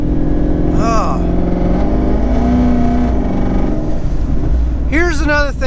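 Twin turbo 2019 Mustang GT accelerating, a loud sustained engine roar with revs climbing and shifting, heard from close by, with a person speaking over it at times.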